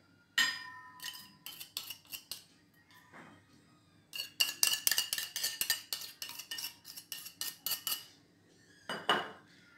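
A metal spoon clinks and scrapes repeatedly against a bowl while mint paste is stirred into yogurt for mint raita, in quick irregular bursts with short pauses, close and clear without speech.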